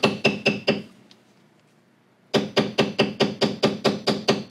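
Mallet strikes on a vertical-line pear shader tightening bevel lines in a large basket weave pattern hand-tooled into leather: sharp, evenly spaced knocks, a brief pause, then another fast regular run of taps.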